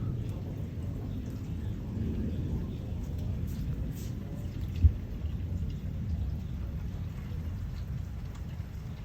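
Thunder rumbles low and steady through a severe thunderstorm, with rain hiss underneath and one sharper thump partway through, while continuous broadband noise fills the clip.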